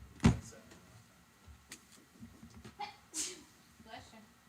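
A single sharp sneeze bursts out near the start, followed by quiet rustling and faint clicks in a still room.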